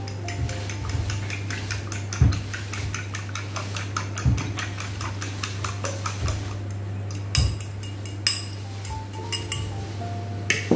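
A utensil clinks and scrapes steadily against a bowl while okoy batter of squash, potato, flour and egg is mixed, with occasional louder knocks over a constant low hum.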